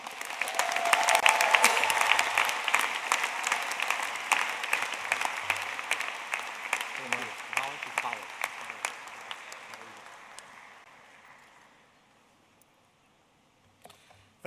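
A doctoral commencement ceremony audience applauds, a dense round of many hands that swells, holds, then gradually thins out into scattered claps and silence.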